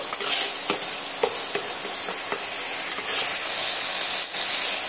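Onions sauté loudly in oil for a vegetable biryani, an intense continuous sizzle close by, with rhythmic scrapes of a spoon stirring the pan and no talk.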